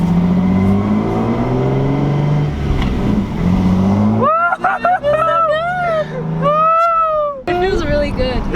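A manual-swapped Lexus IS300 with no mounts or covering accelerates, its engine roar carrying a rising tonal drivetrain whine, then dropping away as excited voices shout and talk loudly inside the car.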